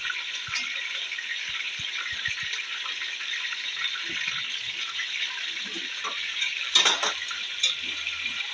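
Chicken pieces browning in a pot for degh-style chicken korma, giving a steady bright sizzle and frying hiss throughout, with occasional scrapes and clinks of a stirring utensil against the pot.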